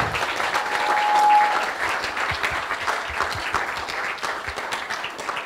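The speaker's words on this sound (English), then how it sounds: "So if you give a very loud applause," An audience at the closing of an East-West Connections conference gives sustained, loud applause, a dense and even roar of clapping that peaks early and then holds steady.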